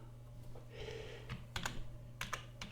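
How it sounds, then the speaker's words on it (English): Keys clack on a computer keyboard in a quiet room, a soft scattered run of presses ending in a few sharper taps, near and faint. "So we just type in enter to finish the installation."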